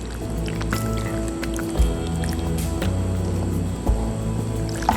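Cooked pasta for baked ziti is spooned into a baking dish, giving soft wet squishes and small clinks over a steady background, with a couple of louder thumps.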